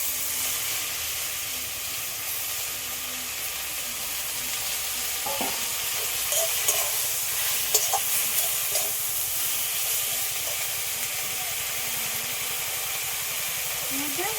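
Washed leafy greens with chopped onion and a bay leaf lightly frying in oil in a pan, a steady close sizzle and hiss with occasional stirring clinks.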